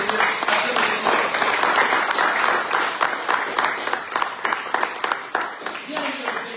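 A church congregation applauds and acclaims the Lord during a sermon, dense crowd clapping that thins into sharper scattered claps toward the end, with a voice speaking over it.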